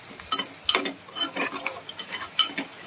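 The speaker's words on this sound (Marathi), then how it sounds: "आपली छान मस्त फोडणी झाली," Chopped garlic and red chili tempering in a hot pan, with quick metal spatula clinks and stirring scrapes over a faint sizzle, close and busy for a few seconds.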